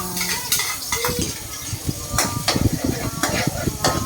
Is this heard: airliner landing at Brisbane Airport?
no